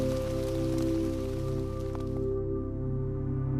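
Steady rain patters densely on leaves and surfaces in a tropical forest, a continuous close wash of drops with a low droning hum underneath.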